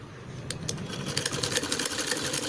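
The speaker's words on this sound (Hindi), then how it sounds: "हम इसमें 3-4 स्टिचिंग करेंगे आधा इंच की दूरी से" A sewing machine stitches a padded blouse, a close, fast, steady mechanical whir with rapid needle clatter that picks up after a brief start and runs continuously without speech.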